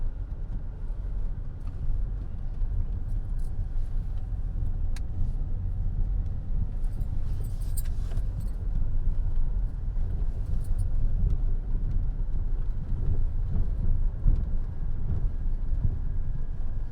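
A car drives along a sandy beach, its engine rumbling low and steady throughout, with a broad continuous wash of road and wind noise and no voices.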